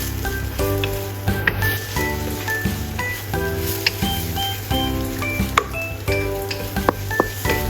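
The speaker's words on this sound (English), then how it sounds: "Scramble the eggs in the pan, then remove and set them aside for later use." Eggs scrambling in a frying pan give a continuous close sizzle with light stirring, over steady tonal sounds in the background.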